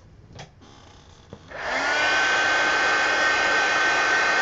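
A hair dryer blowing on a coloring page to dry its paint starts up about a second and a half in with a steady, loud, close whoosh that holds to the end, after a few faint handling taps.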